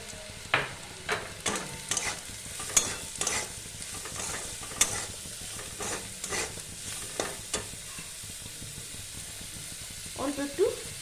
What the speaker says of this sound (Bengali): এবার আমি সেদ্ধ করে রাখা সোয়াবিনটা দিয়ে দিলাম।